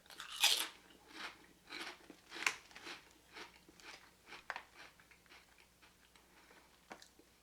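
Thick, heavily seasoned seafood-flavored chips are crunched and chewed up close, several sharp loud bites followed by a run of softer, fading mastication crackles, with no talk.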